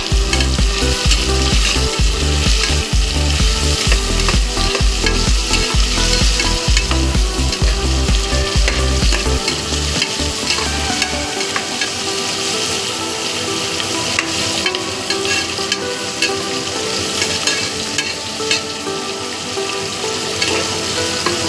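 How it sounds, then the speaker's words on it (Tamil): Onions for a vegetable biryani stir and sizzle in a pan, with loud steady frying and rhythmic scraping strokes that fade into a softer continuous sizzle partway through; no talking. "இது எல்லாத்தையும் கலந்து விட்டுக்கலாம்."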